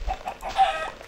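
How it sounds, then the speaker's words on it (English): A chicken in the video game Minecraft gives a few quick, soft clucks in close succession, fairly loud and alone without talk. "After we get this chicken. This chicken!"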